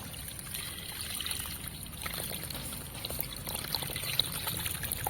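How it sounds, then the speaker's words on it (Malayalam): Gentle water trickles and pours softly and continuously nearby, a light splashing dribble without any talking. "നമ്മൾ ഒരില വെച്ചിട്ട് നമ്മൾ വെള്ളം ഒഴിക്കുന്നത്"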